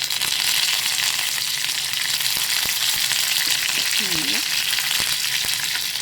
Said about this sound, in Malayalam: കടു പൊട്ടി വന്നിട്ടുണ്ട് ഇനി അടുത്ത് കറിവേപ്പില ചേർത്ത്